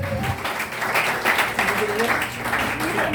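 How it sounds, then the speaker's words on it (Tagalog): A church congregation claps steadily in a dense, continuous wash of applause, with voices mixed in over it. "Palakpak po para sa Panginoon."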